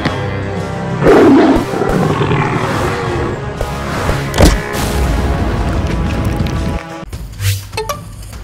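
A modern tiger gives loud, deep roars with rumbling growls, a sharp burst midway and a softer growl near the end.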